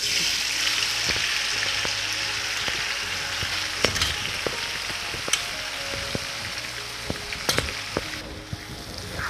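Bay leaves, mace and shahjeera sizzle steadily in hot oil for a chicken dum biryani with raw mango, a close, even hiss broken by scattered sharp pops and crackles.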